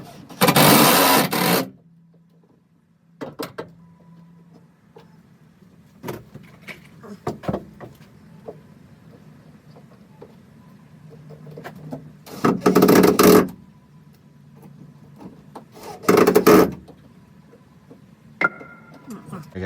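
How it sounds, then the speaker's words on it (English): A drill with a 1/4 inch bit and a 1/2 inch countersink works metal while framing a 2024 Promaster 2500 van. Three short, loud grinding bursts stand apart, with quiet handling noises and clunks between them. "So I have to put this through and drill a 1/4 inch bit, and this is a 1/2 inch countersink."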